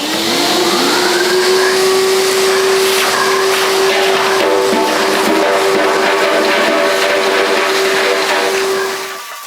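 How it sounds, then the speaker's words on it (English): A 3000W wet and dry vacuum runs loud and close with a steady whining motor tone while rattling metal nuts are sucked up, then powers down at the end. "I'm going to try and vacuum all of this up, which is all metal."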